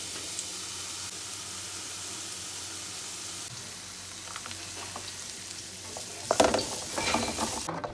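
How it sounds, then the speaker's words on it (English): Beef fried rice being stirred in a frying pan, a steady sizzle with a soft scraping turn of the food, then louder clinks and scrapes of the utensil against the pan toward the end. "So at this moment, we are stirring everything together."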